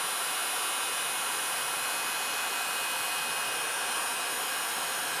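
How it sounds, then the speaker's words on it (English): A heat gun blows steadily while shrinking new wrap onto 18650 lithium-ion batteries. It makes a constant, even, airy roar with no change in pitch and no voices. "I'm going to turn on our heat gun."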